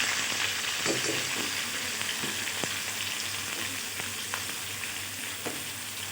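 Sliced onions frying in hot oil for a dal gosht, a dense steady crackling sizzle with occasional sharp pops and light stirring, close and continuous without speech.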